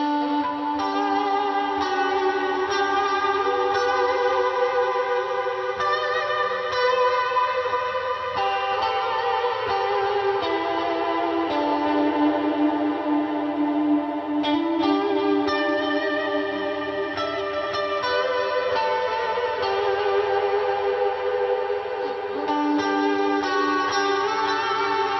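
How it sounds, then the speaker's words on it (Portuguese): Electric guitar played through particle reverb, delay and Valkyrie pedals gives a dense, swirling wash of echoing, warped tones, sustained and steady at moderate loudness with no voices. "com aquele reverb particle, com o delay ligado, o Valkyrie ligado e esse particle, ele fica um som muito maluco"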